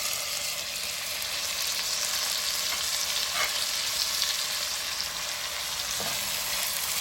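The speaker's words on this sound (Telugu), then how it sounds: "ఈ పుదీనా కొత్తిమీర కూడా బాగా ఫ్రై అవ్వాలి" Mint and coriander leaves frying in a pan with onions for a South Indian paneer gravy, a steady soft sizzle with occasional stirring scrapes.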